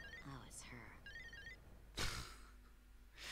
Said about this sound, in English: Oh shit, phone call.